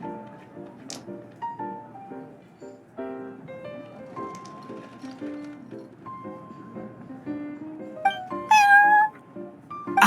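A cat meows in the Cat's Tail tavern in the video game Genshin Impact, heard over a steady bed of game music, with a brighter, louder meow near the end.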